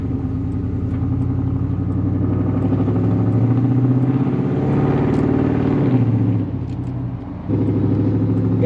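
A Chevrolet K1500 pickup with straight-piped exhaust runs close by, holding a loud, steady, deep rumble that dips briefly near the end and then settles back.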